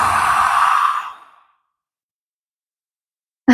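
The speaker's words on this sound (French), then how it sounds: "Inspire et souffle." One long, audible exhale during a gentle breathing exercise for neck tension, a loud close breath fading out over about a second before silence and a short intake at the end.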